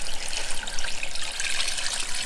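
Homemade chicken bone broth, boiled for hours and skimmed of grease, pours steadily into a pot, a continuous close liquid trickle and splash with no talking.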